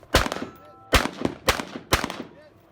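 Four sharp rifle shots at a practical shooting match, each followed by a ringing metallic impact on steel targets about 50 yards away, evenly spaced roughly half a second apart, loud and close with no talk.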